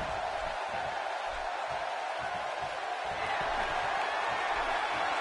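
A fight crowd at a combat sports event roars in a steady, dense wall of cheering and shouting, loud and continuous throughout with no quiet gaps.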